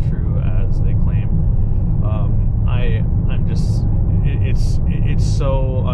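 A 2021 Lamborghini Urus accelerating hard from a launch gives a heavy, steady low engine rumble heard from inside the cabin, running continuously beneath people talking.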